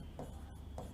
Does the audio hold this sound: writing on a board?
yes